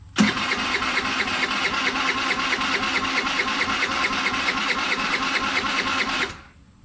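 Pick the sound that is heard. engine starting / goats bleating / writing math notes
engine starting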